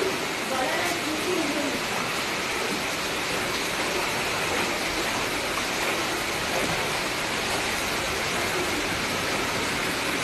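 Floodwater rushing at night, a loud, dense, continuous wash of flowing water that stays steady throughout with no pauses.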